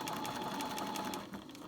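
A sewing machine runs a centimetre seam on a baker boy hat outer, a quiet, steady whirring hum with fast regular stitching ticks that eases off near the end.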